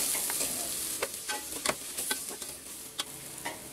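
Mashed boiled potato with spices being stirred in a frying pan for dhaba-style aloo chole puri: a steady background sizzle with irregular scraping and tapping stir strokes, close and moderately quiet, with no talking.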